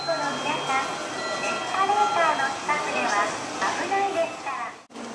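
A Japanese Shinkansen bullet train runs at speed, giving a steady, loud rushing roar with faint tonal whines throughout. The sound stays constant and close, then drops off briefly near the end.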